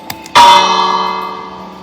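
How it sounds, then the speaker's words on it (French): Single struck church bell in the Minecraft video game, inside an abandoned ruined church, ringing once loud and clear after a couple of faint ticks, its tone decaying slowly into silence. "Que là, c'est la cloche."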